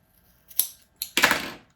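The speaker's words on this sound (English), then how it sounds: "Make another quick little snip." Quick scissor snips into fabric while sewing a top: a short crisp cut followed by a second, longer slicing snip, close and clear in a quiet room.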